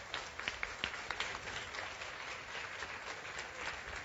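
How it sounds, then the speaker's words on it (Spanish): A church congregation breaks into steady, dense applause during a Spanish-language sermon, a continuous wash of many hands clapping at a moderate distance with no talking over it. "El aplauso es para Dios."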